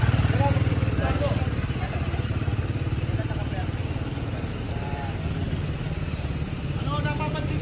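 A motorcycle engine hums steadily in the background as throttle is added during a riding lesson, moderately loud and continuous, with someone talking over it.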